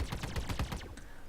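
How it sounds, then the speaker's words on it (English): Paired laser repeaters on a ball turret in the Star Citizen game fire in a fast, steady stream of sharp zapping shots, loud and close, with the bursts thinning toward the end. "On the ball turret, I have 2 laser repeaters."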